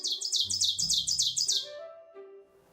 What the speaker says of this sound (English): That parabolic trill, so it starts low, gains higher, and then comes back lower again. That's a pine warbler.